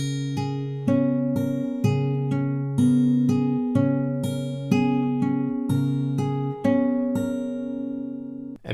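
Acoustic guitar fingerpicking, bright plucked notes ringing over a repeating rhythmic bass pattern, played alone and clear without talking.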